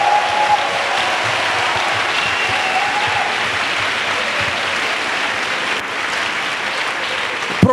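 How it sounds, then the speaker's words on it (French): A church congregation claps loudly and steadily for Jesus, the dense applause filling the hall without a break. "Clap for Jesus."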